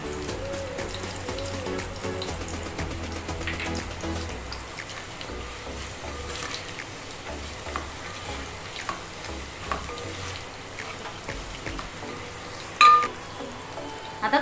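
Fennel seeds frying in hot oil in a kadhai for poha chivda, with steady soft sizzling and small crackles, plus an occasional clink of a spoon.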